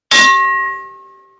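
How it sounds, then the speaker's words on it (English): A single bright bell ding struck once, loud and close, with a clean metallic ring that decays smoothly over about a second with nothing else around it. "hit that notification bell"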